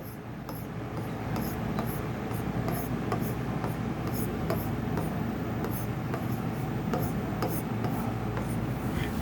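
A pen writes a name in capital letters on an OMR answer sheet for an honours first-year exam, giving a steady scratchy rubbing with small ticks of pen strokes throughout, fairly close, with no talking.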